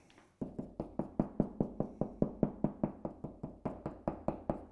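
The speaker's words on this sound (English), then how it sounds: "I'll use a combination of the stud finder and knocking to figure out where they are." Knuckles knocking on an interior wall to locate a stud: a steady series of about twenty close, hollow raps at an even rhythm, with no talking.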